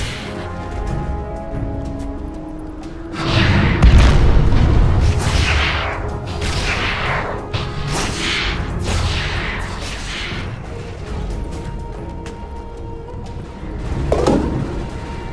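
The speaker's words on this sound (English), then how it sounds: "Radiant's top tower is under attack." Spell and attack effects boom and whoosh as a tower comes under attack in Dota 2, with a heavy crash followed by a rapid run of swishing impacts and a final thump.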